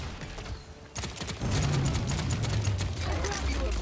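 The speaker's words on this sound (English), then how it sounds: "Enemies are firing on me" Enemy gunfire in a shooter video game: a quieter lead-in gives way to rapid, loud automatic fire and mechanical clatter that keeps going to the end.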